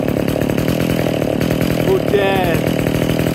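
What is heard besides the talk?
Pro Mac 10-10 chainsaw running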